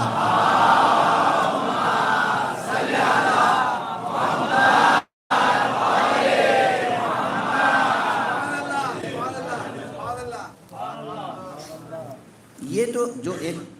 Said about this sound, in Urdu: اس لیے ایک صلوات پڑھ دیجئے محمد.